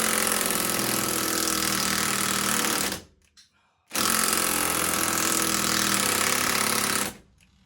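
An impact wrench hammers at a wheel bolt on a mini truck tire in two long loud rattling bursts split by a brief pause, close up with no talk.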